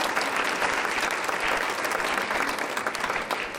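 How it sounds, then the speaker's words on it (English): Sustained applause from an audience at a public event honoring a guest, a steady, dense wash of clapping hands filling the room at an even level throughout, with no voices rising above it. "How about a round of applause for Jeff?"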